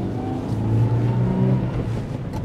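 A 2024 Changan Karvaan 1200cc MPV accelerates from inside the cabin with a steady low engine drone that swells as it pulls. The engine is fairly loud and continuous, and no one speaks.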